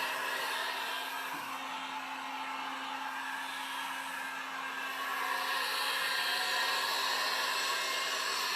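A dryer blows steadily on clumpy paint on a table, giving a continuous even hiss at moderate level with a faint steady tone underneath and no talking.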